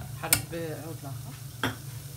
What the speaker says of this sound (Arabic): حرك بعود لاخر.